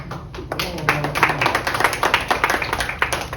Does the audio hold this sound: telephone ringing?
no